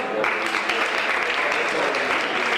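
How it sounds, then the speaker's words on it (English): Audience applause from a seated crowd at an entrepreneur tour event, a dense, steady wash of many hands clapping that fills the whole stretch at even loudness. "can we give a big round of applause to Matt and Laura?"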